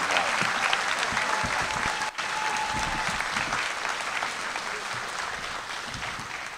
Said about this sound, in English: Let's give one more round of applause for all the students that we've just recognized.